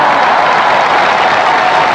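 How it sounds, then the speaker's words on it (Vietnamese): A dense, steady wash of warm applause from a television studio audience of supporters at a Vietnamese music game show, loud and continuous without a break. "hãy dành những tràng pháo tay thật nồng nhiệt"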